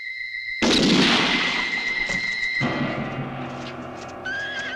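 A single loud, sharp gunshot blast in a western film shootout, close and echoing, then a long ringing decay with a tonal hum and other faint noises underneath.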